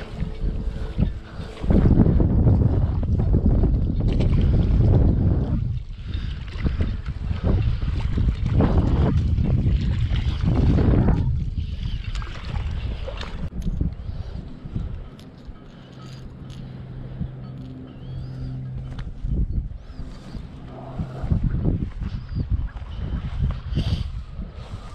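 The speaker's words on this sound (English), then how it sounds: "A bit of wind behind me." Wind gusts outdoors beside the water at Fambridge, buffeting the microphone with a loud, continuous low rumble that swells and eases over the length, with faint lapping and boat sounds beneath.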